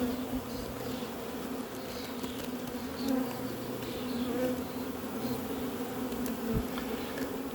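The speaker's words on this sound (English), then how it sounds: "A lot of bees going the opposite way." A steady, dense hum of many honeybees buzzing together at a hive, close and continuous, with occasional louder passes of individual insects.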